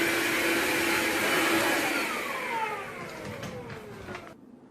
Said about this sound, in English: Just into the vacuum here. Pick up some dust over there.